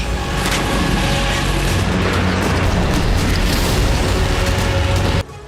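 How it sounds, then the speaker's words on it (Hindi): Bombing blasts in Baalbek, Lebanon, carried as a loud, dense, continuous rumble with heavy low-end booms that hold steady for about five seconds before cutting off abruptly. "आईडीएफ ने एक के बाद एक 3 धमाके किए हैं।"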